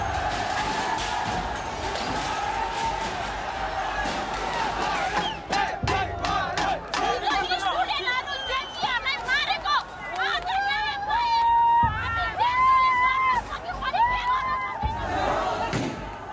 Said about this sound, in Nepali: सुरक्षा हटाइएपछि संघीय संसद भवनमा भिडले कब्जा गर्छ।